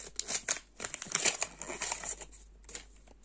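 A handmade paper surprise packet printed with a cat crinkles and rustles as it is opened, a close, quick run of crisp crackling bursts that fade toward the end, with no voice.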